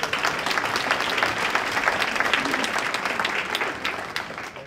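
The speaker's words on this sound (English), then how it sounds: "Yes, you should all get a round of applause." Applause from attendees at a city and school task force committee meeting, a dense, steady patter of many hands clapping together for nearly five seconds before thinning slightly at the end.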